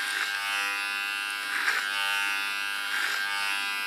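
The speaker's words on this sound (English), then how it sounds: "Talk about the sound of the clipper." An electric hair clipper buzzes steadily, close up, while it cuts hair for a short hairstyle with longer sides, its tone swelling slightly as it passes through the hair.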